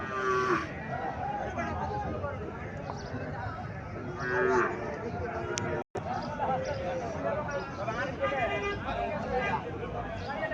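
Dairy cows at a cattle market in Barura, Comilla, moo repeatedly, loud and near, with several long calls over a steady murmur of crowd voices and farm noise; one brief dropout mid-way.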